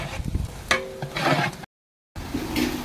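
Onions and tomatoes sauté in a large pot of chicken gravy, crackling and sizzling with scraping stirs. A brief silent gap splits the sound before the sizzling resumes, and nobody speaks.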